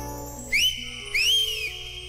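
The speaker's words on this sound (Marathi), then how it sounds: "पण पुन्हा एकदा शिट्टी मारा ना" A person whistles two short rising then falling notes in quick succession at close range, each bright and clear over a quiet, faintly humming room.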